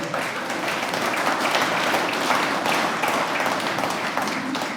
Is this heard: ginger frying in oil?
no